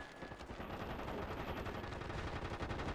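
Dense, sustained automatic gunfire in the PS3 shooter MAG, a rapid rattling stream of shots that stays loud and continuous throughout.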